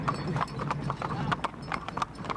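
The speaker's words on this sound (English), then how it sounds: "It's a mule, Tennessee walking mule." Hooves of a Tennessee walking mule, bred from a Tennessee mare and a jack, clip-clop in a steady, close walking rhythm while a person talks over them.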